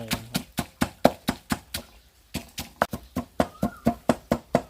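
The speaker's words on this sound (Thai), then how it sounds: "รับตำพอให้พริกแตกนะครับ" Dried chilies pounded in a mortar while making a chicken soup: a steady run of sharp, evenly spaced thuds, about four per second, close and fairly loud, with one short pause midway before the pounding resumes.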